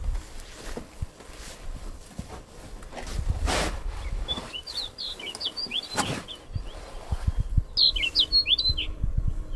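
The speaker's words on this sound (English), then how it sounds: "There's this one little bird on our roof and it's been singing the whole morning" A small bird sings short bursts of high chirps from a cabin roof in Svalbard, some distance away, over light rustling and occasional thumps.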